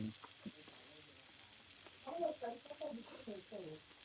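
Chicken frying in butter on a wood-fired clay stove, a steady close sizzle running throughout, with voices talking over it in the second half.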